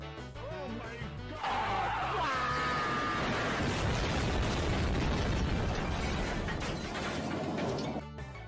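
A Bob-omb item explodes in the Mario Kart: Double Dash racing game: a sudden loud blast that rolls on as a long, roaring rumble for several seconds before cutting off.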